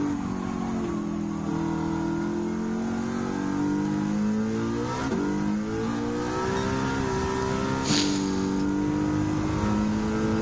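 In Gran Turismo 7, a race car in an American Clubman Cup event chasing a Ford Shelby GT350R accelerates hard, its engine droning loud and steady with pitch climbing through gear shifts and a brief sharp burst near the end.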